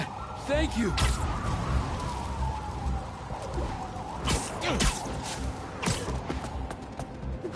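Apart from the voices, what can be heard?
ambulance siren in a video game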